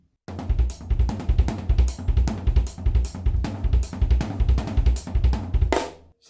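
A drum fill built on paradiddles with a double kick, rapid sixteenth notes split between hands and right foot, dense loud snare, tom and bass drum hits with crashing cymbals, played close without talk.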